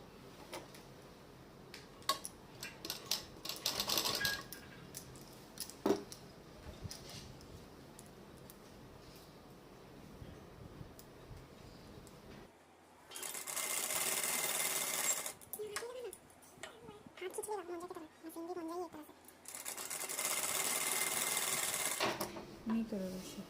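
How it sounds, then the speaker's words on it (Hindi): A sewing machine stitches a gown in two bursts of fast, rattling whirring. Someone talks quietly between them in a quiet room. "यहाँ पे सिलाई लगा देंगे।"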